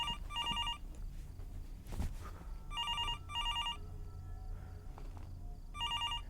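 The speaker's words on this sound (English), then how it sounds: "Why is the phone ringing?" A telephone rings in bursts of repeated electronic trills inside the horror game Fears to Fathom, four ring groups spaced across the stretch over a low ambient hum, with a faint thud or step in between.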